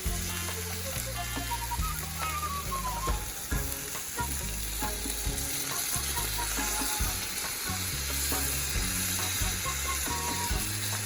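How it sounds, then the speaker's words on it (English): Chicken enchilada rice mixture with boiled chicken and red enchilada sauce is stirred in a hot pan, a steady sizzle with scraping, clattering spoon strokes, close and busy, while music plays underneath. "Now we are going to stir this mixture very nicely so that they get well combined."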